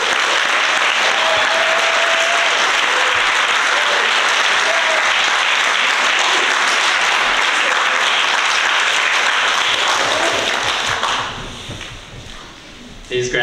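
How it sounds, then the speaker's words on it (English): An audience at a high school graduation ceremony applauds the graduates: dense, loud clapping from a large crowd sustained for about eleven seconds, then thinning out and dying down near the end. "So let's give them another round of applause."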